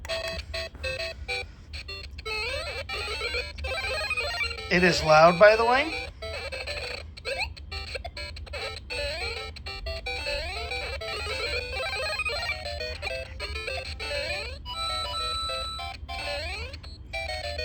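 Tinny, beeping Super Mario melody from a small speaker in a 2023 Hallmark video game keepsake ornament plays continuously and loudly, with a brief voice speaking partway through.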